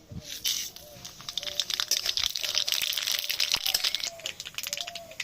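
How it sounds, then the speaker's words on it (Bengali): Dried red chillies and black mustard seeds crackle and sizzle as they drop into hot mustard oil in a kadai. The frying noise is busy and close, with scattered pops and spits throughout. "তেল ভালো করে গরম করে নিয়েছি। এবার দিয়ে দিচ্ছি ফোড়নে শুকনো লঙ্কার কালো সর্ষে।"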